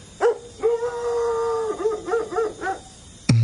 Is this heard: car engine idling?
no